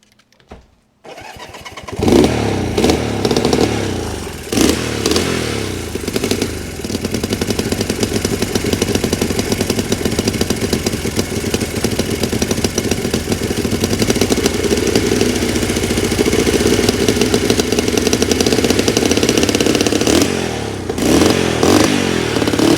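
A restored Honda CL175 motorcycle engine fires on its first start after a brief cranking, then settles into a loud, steady, close-up idle that runs unbroken for about twenty seconds before a few revs at the end.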